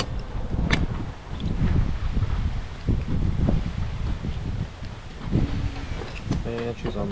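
Wind blows outdoors beside an RV, a rough, fluctuating rush buffeting the microphone in uneven gusts, fairly loud throughout, with a few sharp clicks and a short beeping sequence near the end.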